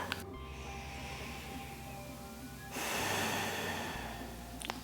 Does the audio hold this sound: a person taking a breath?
yes